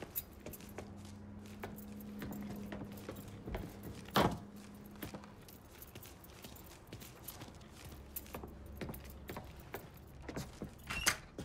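Keys are picked up in the Mafia 3 video game, a brief metallic jingle and rattle standing out amid quiet game ambience, footsteps and low background hum.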